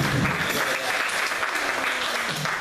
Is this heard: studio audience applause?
yes